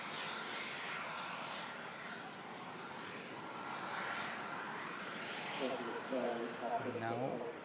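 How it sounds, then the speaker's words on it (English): An EasyJet airliner inbound from Bilbao roars steadily on approach to Manchester Airport in stormy weather, a broad sustained engine rumble that swells and fades, with a person talking briefly near the end. "EasyJet coming in from Bilbao there."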